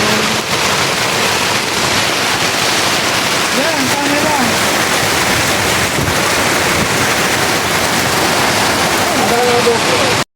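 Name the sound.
heavy rain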